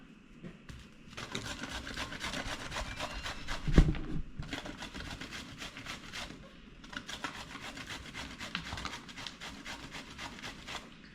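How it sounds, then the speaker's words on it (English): Zucchini rubbed against a kitchen grater while making zucchini muffins, giving a steady rasping scrape in continuous back-and-forth strokes close by, with short pauses between bursts and one louder knock partway through. "Grandma's going to make a little more, grate a little more"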